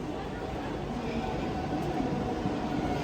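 A crowded Mumbai local train rumbles along from inside the carriage, a steady low droning roar of the moving train with murmured crowd voices mixed underneath.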